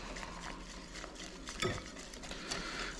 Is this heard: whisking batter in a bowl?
yes